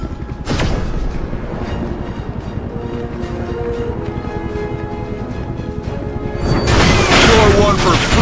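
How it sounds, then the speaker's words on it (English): A grenade is thrown and explodes in a Captain America action video game on iOS; continuous clattering mechanical game effects run throughout before a loud, broad blast erupts near the end. "Tossing a nade!"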